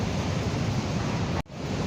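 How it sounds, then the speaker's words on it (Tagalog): Dense, steady hiss of heavy typhoon rain pouring down, loud and constant, with a brief dropout near the end before it resumes. "Heavy rain."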